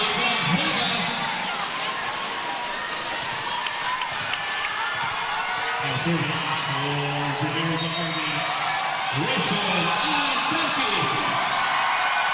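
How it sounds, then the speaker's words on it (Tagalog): A packed arena crowd roars and whoops steadily through a women's volleyball match between Generika-Army and Air Asia in the Philippine Super League, with a commentator's voice carrying over the constant cheering. "Crowd going nuts here"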